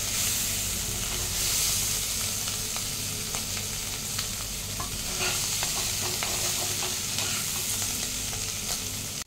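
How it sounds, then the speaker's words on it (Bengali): Boiled potatoes for alur dom fry lightly in oil in a pan, producing a steady hiss with frequent clicks and scrapes of stirring, fairly close and continuous. "এটা ভালো করে একটু ফ্রাই করে নিতে হবে।"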